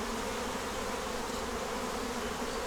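Honey bees swarm over a hive super frame full of nectar, making a dense, even buzzing drone that stays close and continuous throughout with no voices.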